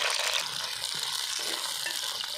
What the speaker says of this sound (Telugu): ఆయిల్ బాగా ఇరికింది కదా చిట్ట చిట్ట అంటుంది